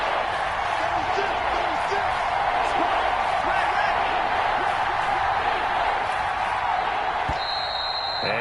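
A stadium crowd in a Madden NFL football game between Washington and the Steelers roars steadily as a big third down approaches, a loud, continuous wash of noise with a voice talking under it.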